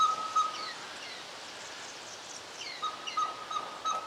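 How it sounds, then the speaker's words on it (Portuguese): Agitated blue dacnis and other birds call in Boa Nova National Park, Brazil: faint, thin chirps and a high whistled note come near the start and again toward the end, over quiet forest background. "escutamos o pio de uma ave. E, de repente, vários pássaros surgiram do nada e ficaram alvoroçados com aquele piado estranho."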